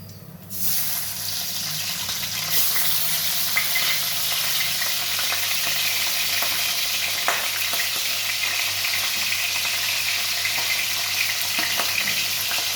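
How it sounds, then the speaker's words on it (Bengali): Kajoli fish frying in hot oil in a pan, a dense continuous sizzle that starts abruptly as the fish goes in and stays loud and steady, close up, with no talking. "এই মাছটাকে ভেজে নেবো"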